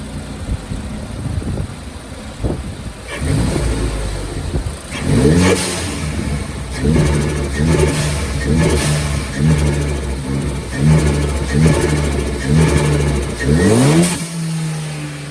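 A Ford Focus ST engine fitted with a homemade high-flow intake revs repeatedly up and down, rising whooshes and intake roar close by, settling between pulls before a final rev drops away.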